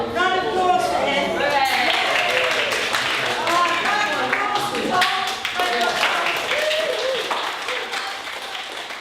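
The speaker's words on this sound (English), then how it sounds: "Round of applause for him." An audience gives a round of applause, dense close hand clapping that runs steadily for several seconds, with voices and cheering mixed in over it.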